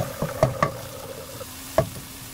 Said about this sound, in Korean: 물을 조금씩 부어가면서 볶은 다음에